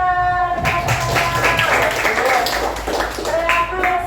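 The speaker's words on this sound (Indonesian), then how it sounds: "Ya, tepuk tangan." Students in a classroom give brief applause, scattered clapping mixed with chatter and a voice speaking over it.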